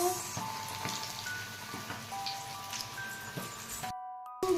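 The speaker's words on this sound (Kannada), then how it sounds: "ದೆನ್ ಆಯಿಲ್ ಫ್ರೈ ಮಾಡಿ" Homemade KFC-style coated chicken pieces fry in hot oil, giving a steady crackling sizzle with a few light clatters, moderately close, before cutting off briefly.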